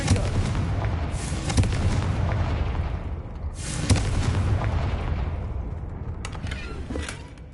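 A Confringo explosive spell in Hogwarts Legacy detonates with booming blasts, first a loud burst, then another strong explosion near four seconds and a smaller crack later, each trailing rumbling debris.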